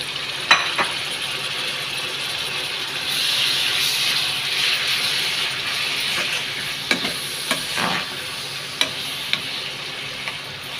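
Tomato pieces hit a pan of frying brinjal and ridge gourd, giving a loud, steady sizzle with occasional stirring clacks and scrapes close by, no voices.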